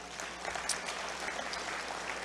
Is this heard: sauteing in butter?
no